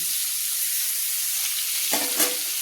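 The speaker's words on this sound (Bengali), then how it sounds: "মাছটা আমি ভেজে হালকা হালকা লাল লাল করে কেটে নেব" Pieces of silver carp frying in hot oil give a steady, close sizzle and hiss, with a brief burst of louder spattering toward the end as the fish is moved.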